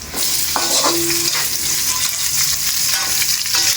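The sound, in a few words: onions being sautéed in a pan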